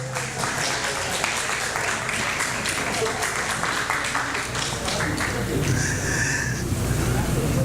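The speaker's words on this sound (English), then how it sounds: "Let's give them a big round of applause for 300 to 499 hours of service to the city of Pico Rivera." Audience applause for senior center volunteers at a recognition ceremony in Pico Rivera, a steady broad wash of clapping filling the room throughout, with voices mixed in under it.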